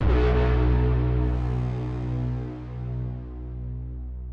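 A big layered cinematic braam swells in at once, a deep sustained brass-like drone with dense harmonics that slowly decays into a long reverberant tail, with no voices over it.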